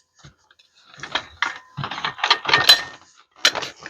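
A hi-hat pedal tensioner mechanism being worked by hand, giving a series of short metallic clicks and ratcheting rattles in uneven bursts, close up with no voices.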